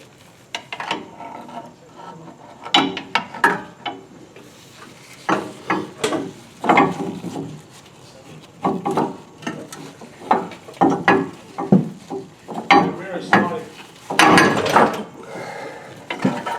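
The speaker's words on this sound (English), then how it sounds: "We're going to pry this up with a pry bar and insert this block." A pry bar works a leaf spring up on a Chevy Silverado 1500 rear suspension to fit a lift block, giving irregular metallic clanks, scrapes and knocks in short bursts, close by with quiet gaps between.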